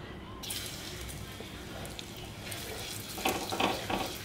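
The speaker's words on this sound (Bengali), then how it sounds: "এবার একটু রসুন কুচি দিয়ে নেব।" Chopped garlic fries in hot oil in a kadhai, giving a soft, steady sizzle close by that swells slightly louder with a few crackling bursts near the end.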